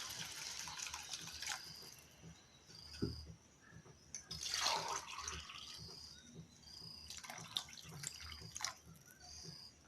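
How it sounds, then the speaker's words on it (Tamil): Water poured into a pan while making vegetable vermicelli biryani, small splashes and drips at first, then a brief louder gush of pouring, followed by a few more trickles in a quiet kitchen. "நம்ம இதுக்கு தேவையான அளவு வந்து தண்ணி சேர்த்துக்கலாம்"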